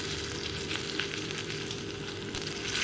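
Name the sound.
bitter gourd frying in a kadai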